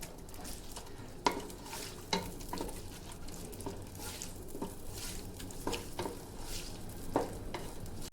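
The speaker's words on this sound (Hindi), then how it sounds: "ऑयल गर्म हो गया, इसके अंदर मैं प्याज शामिल करूंगी। प्याज को हम गोल्डन ब्राउन करेंगे।" Onions frying in hot oil in a pan for nalli nihari: a steady close sizzle runs throughout, broken by periodic scraping and clinking as a utensil stirs the pan.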